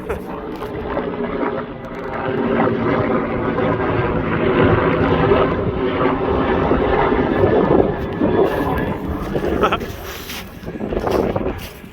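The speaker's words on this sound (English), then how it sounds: "How loud was that helicopter? That was ridiculous." A loud helicopter roar swells and lingers overhead, rumbling and throbbing, while wind buffets the microphone and people speak over it on a winter ascent of Blencathra.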